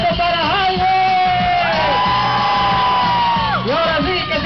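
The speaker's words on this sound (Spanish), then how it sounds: "Y eso, un grito para Jaime." At a celebration, a crowd of guests yells and whoops for Jaime, who is dancing with his daughter: loud sustained overlapping voices that swell and dip and then rise again near the end.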